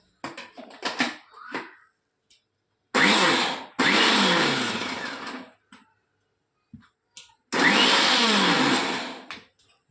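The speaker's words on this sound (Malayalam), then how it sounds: "അതേ ചെമ്മീൻ ഒന്ന് അരച്ചിട്ട് മിക്സിയുടെ ജാറിലോട്ട് തേങ്ങ ഇട്ട് കൊടുത്തിട്ടുണ്ട്" A kitchen mixer grinder grinds prawns, grated coconut and salt in its jar, running in three loud bursts of whirring motor noise, the last two several seconds long, separated by silent pauses with brief clatters.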